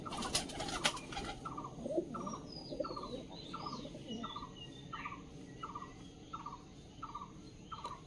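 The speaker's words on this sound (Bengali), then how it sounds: "এগুলো মিলিদের পায়রা।" Pet pigeons kept by a neighbour cooing in a steady, repeating rhythm of soft calls, with other birds chirping faintly in the background.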